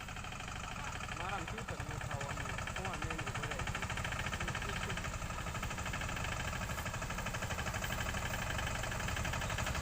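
Two tractors, a Messy 5118 and a 15 hp Steeltrac, run their engines at 1500 rpm in second gear, producing a steady, continuous mid-pitched diesel drone throughout, with people talking over it.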